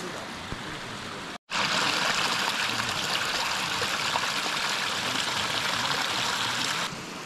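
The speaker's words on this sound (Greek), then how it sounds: "να μας δείξει κάτι πολύ ωραίες πηγές" Water from natural springs beside a river in Zagori, Greece, rushes and splashes in a loud, steady close-up torrent after a brief cut, with no speech over it.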